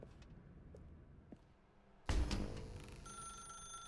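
A telephone bell in The Stanley Parable: Ultra Deluxe starts ringing abruptly after quiet ambience, a bright, sustained ring that carries on steadily to the end.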